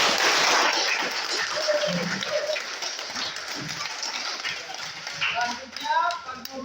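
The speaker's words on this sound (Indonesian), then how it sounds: "Tepuk tangan." Students applauding in a classroom for their teacher, a burst of clapping that is loud at first and then thins out into scattered claps under children's chatter and voices.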